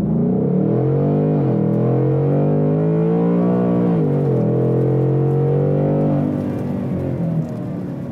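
A 2021 Ford Mustang Mach 1 launches hard in drag mode, its engine roaring loud and close with a rising, harmonic-rich note that climbs through gears, dipping briefly at shifts around two and four seconds, with no talking.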